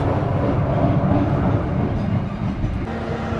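A Rajabasa passenger train hauled by a CC201 locomotive departs Talang Baru station, heard from on board as a steady, close rolling rumble with faint wheel clatter throughout.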